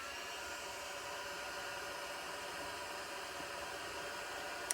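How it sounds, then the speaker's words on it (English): An embossing heat tool runs continuously at close range while it warms up for papercraft, giving a steady, breathy fan-and-air whoosh at low level with no change in pitch. "get my heat tool, and let it heat up just a little bit"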